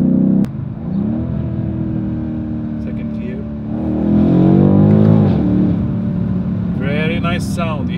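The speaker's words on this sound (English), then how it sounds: "The noise is fantastic. It's a bit channeled through the speakers, but you can feel the exhaust is working." A BMW M850i's engine and exhaust rev steadily while driving, the note rising into a louder surge midway, carried partly through the cabin speakers; someone talks over it throughout.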